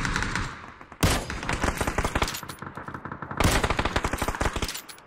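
Rapid bursts of gunfire in the battle royale video game PUBG, two loud volleys of quick repeated shots separated by a short lull, close and dominant with no talk over them.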